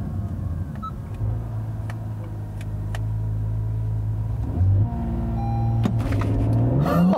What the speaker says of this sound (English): I just tried the launch control there